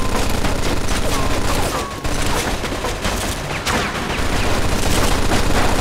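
Sustained automatic fire from a heavy machine gun in the World War II game Mafia 2, a loud continuous rattle of shots with battle noise, with no break through the whole stretch.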